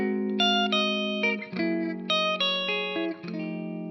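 A blues guitar strums a 13th chord, lifting the pinky a whole step on the first string and then releasing it. The repeated chord stabs ring clean, with a little reverb and no voice.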